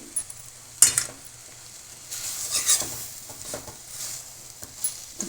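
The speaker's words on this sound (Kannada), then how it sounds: "ಸ್ವಲ್ಪ ಕೊತ್ತಂಬರಿ ಸೊಪ್ಪನ್ನು ಹಾಕಿಬಿಟ್ಟು ಸ್ವಲ್ಪ ಮಿಕ್ಸ್ ಮಾಡಿ" Coriander leaves being stirred into field bean dal (avarebele saaru) in a pan, with a soft steady scraping and a couple of sharp metallic clinks from the spoon, nearby and alone.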